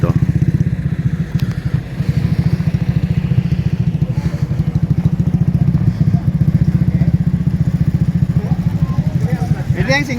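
Motorcycles on a rural dirt trail, riding back across river crossings, give a steady loud rumbling engine drone throughout, with people talking over the noise.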